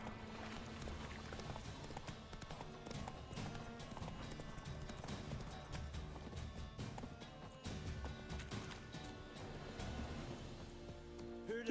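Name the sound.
horse Roach galloping, hooves, from video game The Witcher 3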